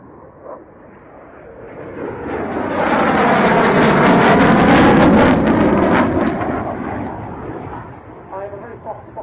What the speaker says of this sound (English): so it's very high speed path coming up now, so stand by for a wheeling noise